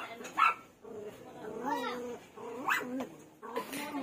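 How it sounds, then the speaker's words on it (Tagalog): Several dogs bark and yip in bursts, mid-distance and moderately loud, with a busy outdoor background and voices chattering throughout. "nagkakaingay na yung mga aso"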